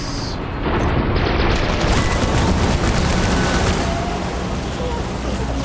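Grenade launcher fire and explosions in the video game Death Stranding, a dense, continuous barrage of booming blasts and crackling detonations that stays loud throughout.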